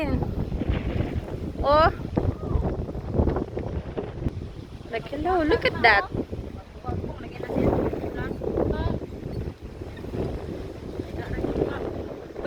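Strong wind buffets the microphone with a constant roaring rumble while several people talk and exclaim over it.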